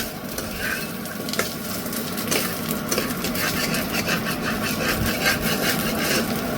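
Ghetkol leaves are stirred and fried in a wok, giving a steady close sizzle with continuous scraping and rubbing strokes of the spatula across the pan.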